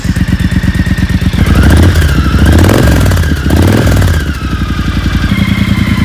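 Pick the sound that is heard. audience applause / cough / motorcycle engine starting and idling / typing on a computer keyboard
motorcycle engine starting and idling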